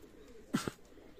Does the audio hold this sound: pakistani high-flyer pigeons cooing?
yes